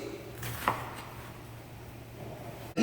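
A knife cuts through an onion on a cutting board, giving one or two crisp, isolated chopping strokes over a quiet kitchen background.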